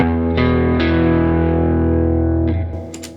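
Electric guitar through a Quad Cortex with transpose set four semitones down, a sustained chord ringing with a couple of restrikes, fading at the end with a brief pick noise.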